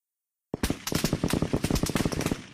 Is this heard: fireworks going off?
yes